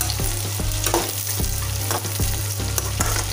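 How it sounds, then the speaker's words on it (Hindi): Potatoes and cluster beans fry over a medium flame, a close, even sizzle punctuated by regular clinks and scrapes of a spatula stirring the pan. "इसको हम ऐसे फ्राई करते हैं हल्का हल्का सा मीडियम आंच पे"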